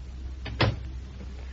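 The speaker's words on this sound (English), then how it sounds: "Shut the door, Jack." A door shut in an old radio drama office scene: one short, firm thud with a brief knock just before it, close and alone over a steady low hum.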